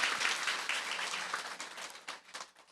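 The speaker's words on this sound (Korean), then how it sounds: "박수 한번 부탁드리겠습니다." Audience applause at a gathering, a moderate wash of clapping hands that gradually thins into scattered individual claps as it dies away.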